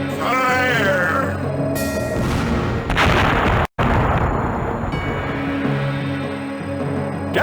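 Ship cannons firing in the pirate game Redjack: Revenge of the Brethren, loud booming blasts and rumbling explosions layered over game music, with a brief dropout midway.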